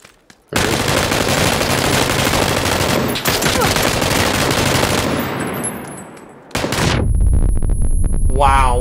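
Dense rapid gunfire rattles loud and close in a video game firefight, a sustained burst with a short break and then another heavy volley near the end.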